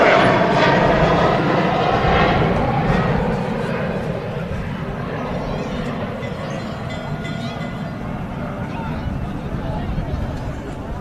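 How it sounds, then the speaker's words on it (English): A Ryanair airliner taxis at Manchester Airport, its engines giving a fairly loud, steady rumble that eases gradually after the first few seconds. Someone speaks over the noise. "There goes the Ryanair taxiing in."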